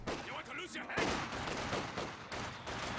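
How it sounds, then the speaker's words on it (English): A Company of Heroes 2 battle: a rifle grenade bursts amid scattered small-arms fire and explosions, with a sharp impact near the middle and continuous crackling combat noise at moderate volume. "Oh, this is going to be a nasty rifle grenade."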